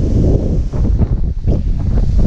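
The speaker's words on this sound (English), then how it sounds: "the wind's still coming, so it's still getting worse." Strong, steady wind after Hurricane Irma, roaring and buffeting the microphone continuously with gusty rumble, alongside rustling from storm-damaged trees around a house.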